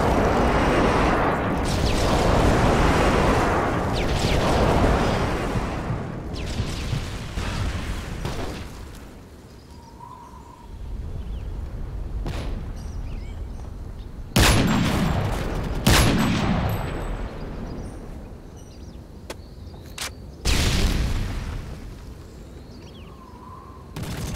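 Airstrike explosions in Modern Warfare 3 multiplayer, a long rolling series of heavy booms and blasts at the start, followed after a lull by several separate sharp detonations and bursts, loud and close.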